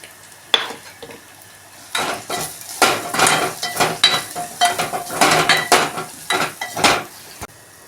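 Spices and ginger frying and stirred in a pan for rasam, with a steady sizzle under repeated scraping clatters of a spoon against the metal, close and fairly loud.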